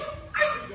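A dog gives a single short, sharp bark or yip, heard from a played recording at moderate distance over a faint background hum, with no talking.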